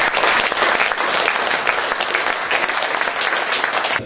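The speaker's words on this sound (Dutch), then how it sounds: "geef hem een groot applaus" A sustained burst of dense clapping from an audience at a cultural café in Tilburg, greeting a bistro chef, steady and fairly loud throughout.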